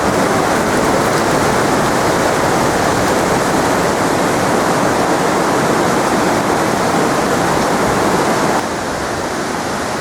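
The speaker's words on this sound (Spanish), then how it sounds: "El agua ruge." Loud, steady roar of a rushing stream tumbling through a rocky gorge in a natural park in Asturias, a continuous broadband wash of water that holds constant, slightly easing near the end.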